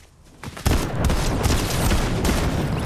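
Rapid gunfire in Fortnite, a sustained burst of overlapping shots that erupts after a quieter start and stays loud and close to the end.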